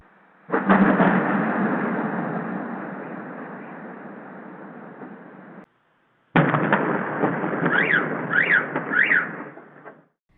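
A long roaring rumble of blasts from a series of explosions during a drone attack on Belgorod, Russia, cut off briefly and then resuming with more bursts and rising whistling tones, loud and sustained.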